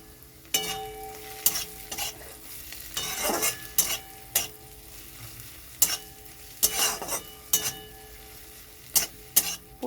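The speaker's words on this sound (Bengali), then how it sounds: "দিয়ে আবার ভালো করে ওটা কষিয়ে নিলাম।" Prawn and poppy seed paste stir-fried with salt in a pan, a continuous soft sizzle broken by sharp spatula scrapes and knocks against the pan at irregular intervals.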